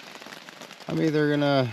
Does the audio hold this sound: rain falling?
yes